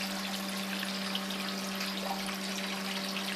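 Water flows steadily through a siphon in a freshly installed backyard aquaponics system in Abu Dhabi, a constant close rushing trickle with a faint steady hum beneath, and no talking.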